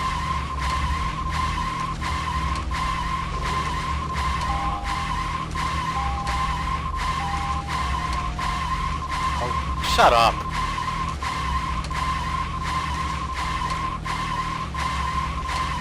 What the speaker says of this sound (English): This might actually be the worst driving noise in any game I've ever played.